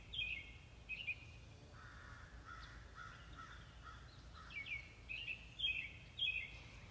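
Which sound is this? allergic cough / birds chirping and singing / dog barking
birds chirping and singing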